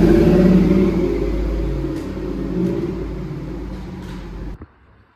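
A loud car engine idles close by with a heavy, steady rumble. The sound eases slightly midway and then cuts off abruptly near the end.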